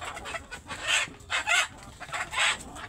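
Desi chickens clucking in a series of bursty, mid-pitched calls, several clucks in quick clusters, fairly close and alone without talk.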